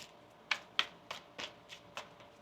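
A deck of tarot cards being shuffled by hand in a series of crisp, quiet riffles and slaps, about six distinct bursts spaced unevenly over a couple of seconds, close and without talk.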